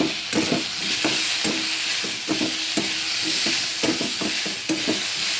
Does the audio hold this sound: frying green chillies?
yes